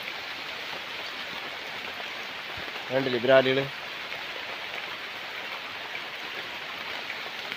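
Steady rain hisses across the whole stretch beside a fish pond, with a short burst of voice partway through.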